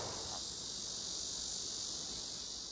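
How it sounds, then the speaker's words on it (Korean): Crickets and bell crickets chirp together in an autumn field, a constant high shimmering trill that runs steadily and fairly faint throughout, with no voices. "자세히 들으면 귀뚜라미와 방울벌레 소리가 들리고요"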